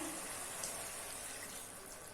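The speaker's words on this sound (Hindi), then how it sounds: "अभी इसमें हाफ ग्लास पानी ऐड कर लेना है" Half a glass of water pours into a pan of chicken leg piece masala gravy, a steady soft splashing hiss running for about two seconds, faint and close with no talking.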